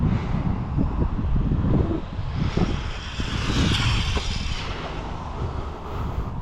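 Steady wind gusting outdoors during a speed run of a Tamiya MF-01X RC car, a broad continuous rush that swells and eases, loud and close to the microphone with no talking.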